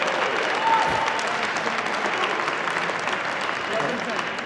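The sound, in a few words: crowd applauding at squash tournament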